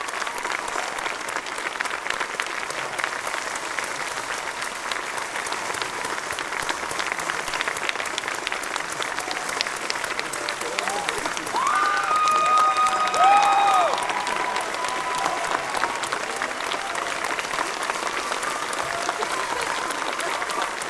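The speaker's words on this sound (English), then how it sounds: "A big round of applause" An audience at the PAX East 2013 Mass Effect retrospective panel applauds in a large hall, sustained dense clapping that swells slightly partway through, with some cheering mixed in.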